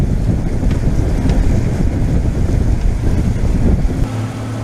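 A boat runs into oncoming waves in a head sea, with a continuous low engine rumble, water slapping against the hull and heavy wind buffeting the microphone throughout.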